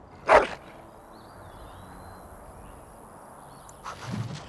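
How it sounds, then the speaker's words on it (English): A dog in the video game Dragon Age: Origins gives one short, sharp bark at the start, then a softer, lower woof a few seconds later, over a quiet ambient hum. "And now we can name the dog anything that we want."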